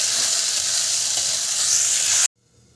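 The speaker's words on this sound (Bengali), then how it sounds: "মশলাটা দিয়ে আমি ভালো করে ভেজে দিই।" Spice paste frying in hot oil for a mushroom curry gives a loud, steady hiss and sizzle for about two seconds, then cuts off abruptly to near silence, with no talk.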